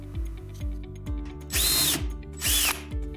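A power drill whirs in repeated short bursts, with two louder, higher-pitched surges where the bit bites into the thin metal bottom of an aluminium can, close and loud.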